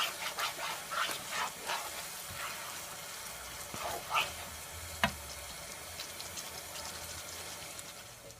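Barbecue sauce boiling in a pot, soft bubbling and popping with gentle sizzle, a few louder pops scattered over a quiet steady background.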